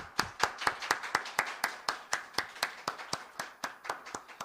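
A church congregation claps in a steady, even rhythm during a Christmas Eve service, about four crisp claps per second, moderately close and without talk.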